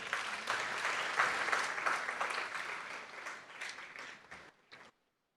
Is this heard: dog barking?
no